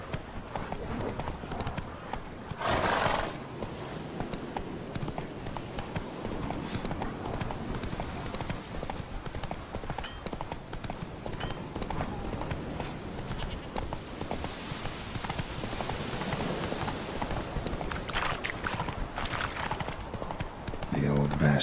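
Hooves clip-clop steadily as the horse Roach gallops in The Witcher 3 video game, a continuous close rhythmic patter under game ambience.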